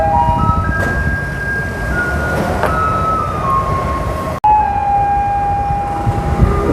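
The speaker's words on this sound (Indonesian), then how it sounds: "Tuh ada mobil sampah." A garbage truck passes on an Indonesian street, with a loud droning engine, whining tonal tones and a windy wash throughout, steady and near with a brief break partway.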